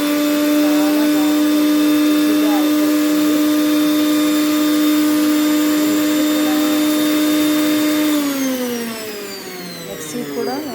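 A mixer grinder whirring steadily at high speed while grinding fried chana dal chutney with mint, ginger, garlic, cumin and green chillies, a loud constant whine that then drops in pitch as the motor winds down.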